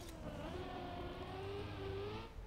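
Race car engine in the Trackmania racing game, a steady close whine with rising and falling harmonic pitch as the car speeds along, continuous and alone for a couple of seconds.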